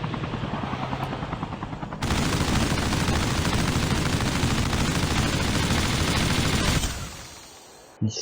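A helicopter in Call of Duty Mobile roars loud and close with a rapid rotor thrum, joined by bursts of gunfire, before fading away near the end.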